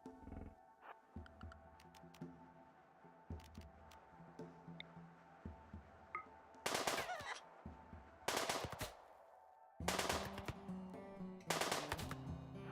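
Bursts of gunfire from the video game Rimworld, several short loud volleys of rapid shots separated by quieter game ambience and soft background tones.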